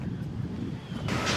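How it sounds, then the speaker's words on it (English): Cool autumn wind gusting on an outdoor trail, buffeting the microphone in a broad continuous rush that swells louder toward the end, with no voices. "with all of this cooler air came a lot of wind, the kind of wind you get in the fall"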